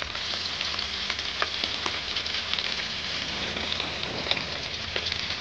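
Hilsa fish frying in a pan for a curry, a steady close sizzle with scattered small pops and crackles, no voices.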